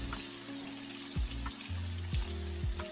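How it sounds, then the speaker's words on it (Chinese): Tofu pieces frying one by one in an oiled wok, a soft steady sizzle with low, rising hums and a few soft knocks as the pan is moved, no talking. "煎豆腐我们要一块一块的下入，这样就不容易粘连在一起。"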